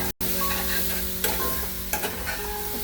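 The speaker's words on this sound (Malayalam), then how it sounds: "നമ്മൾ നന്നായിട്ട് ഇളക്കിയെടുക്കും. ഫ്ലെയിം കുറച്ച് വെക്കണം." Sausages fry in a pan, a steady close sizzle with a few scraping knocks from stirring, no voices.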